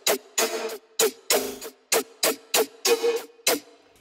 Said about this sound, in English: So let's just put the reverb filter on, compressor, EQ, bam. Sounds like this.